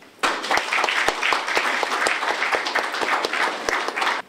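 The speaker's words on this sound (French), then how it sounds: "Donc je vous présente sous vos applaudissements, Monsieur Dr Mbongagne." Audience at a Mouvement de libération du Congo commemoration event in France applauds steadily for about four seconds, a dense, even wash of many hands with a sharp onset and quick cutoff.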